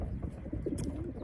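Pigeons coo softly inside a racing loft as young hens prepare for their morning training flight, a brief low murmur under a steady rumbling background.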